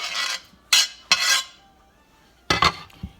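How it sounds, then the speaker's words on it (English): Large tomato pieces for chicken bruschetta tumble into a mixing bowl in three short, close clattering bursts, with quiet pauses between them. "So then the tomato goes in the mixing bowl."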